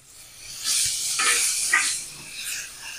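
Fried potatoes going into spice masala that has been cooked down with yogurt, giving a steady close hiss and sizzle of frying in a pan that swells and fades over a few seconds.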